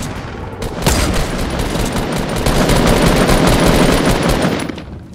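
Dense, nearly continuous gunfire from a Fortnite squad match: rapid overlapping shots and bursts rattle loudly for about five seconds with no talking.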